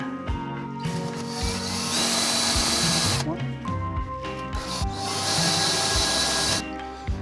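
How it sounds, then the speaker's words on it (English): A power drill whines loudly in bursts as it drills out screws on a movie-car replica, with short pauses between runs and a steady high hiss during each drilling stretch. "I'm gonna drill these out."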